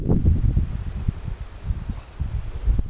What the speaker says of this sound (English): But it's very, very windy today.